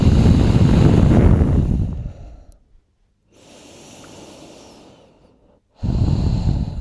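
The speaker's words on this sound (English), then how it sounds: "We're just going to take some nice deep breaths in and out" Deep breaths drawn in through the nose and let out through the mouth during a quick home fitness class: a long, loud, close breath, then a softer airy stretch after a pause, and another strong breath starting at the end.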